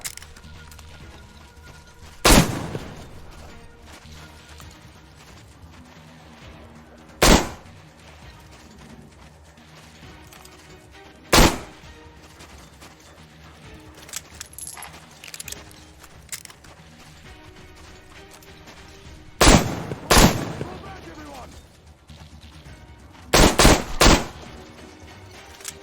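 Gunfire in Metro Exodus: sharp, loud isolated shots and short bursts spaced irregularly, with a quick double and triple cluster near the end, over quiet ambient background.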